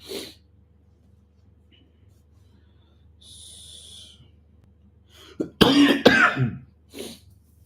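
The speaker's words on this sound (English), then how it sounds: "I get the cough right away" A burst of harsh coughing up close near the end, preceded by a quiet stretch with a brief hiss and a breath.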